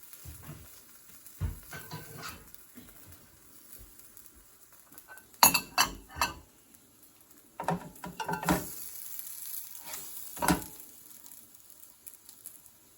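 Gözleme flatbread made from dried yufka and filled with sucuk and kaşar cheese fries in a pan, a faint sizzle under scattered clinks and knocks of utensils and dishes, with no talking.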